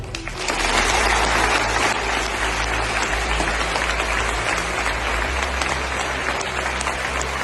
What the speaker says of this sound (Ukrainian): І ці оплески для вас.